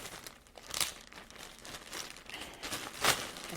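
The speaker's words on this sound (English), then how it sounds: "I can just tear it open" Wrapping paper on a small present is torn open by hand in a few bursts of crinkling and ripping, with a sharp tear near the start and a louder one near the end, close and fairly quiet.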